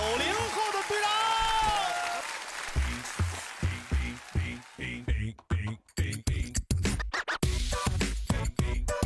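An audience applauds to welcome a team captain onto a stage, with crowd clapping and cheering in the first couple of seconds before a loud, rhythmic dance track with singing takes over.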